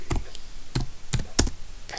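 Four distinct keyboard keystrokes typing into a Roblox Brookhaven chat, close, sharp and irregularly spaced over low room noise, no talking.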